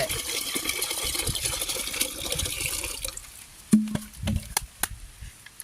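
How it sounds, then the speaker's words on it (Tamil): Water is poured and mixed into a palm fruit (nungu) drink, a steady splashing rush for about three seconds, then a few close clinks and light knocks in a quieter room. "வாட்டர் எப்படி மிக்ஸ் ஆகுது பார்த்துருங்க."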